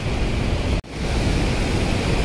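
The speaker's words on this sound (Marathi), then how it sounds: "मित्रांनो अचानक तुफान पाऊस चालू झालाय" Heavy monsoon rain pours at Randha waterfall near Bhandardara, a dense, steady broadband roar of falling water close to the microphone, with a brief dropout partway through.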